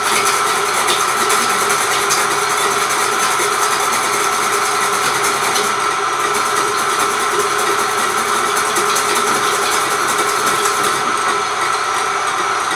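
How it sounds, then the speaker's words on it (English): Electric mixer steadily whisking joconde sponge batter until pale and aerated, a constant loud motor whir with a beating rattle that holds unchanged throughout, no voices. "constant whisking, nice and pale aeration."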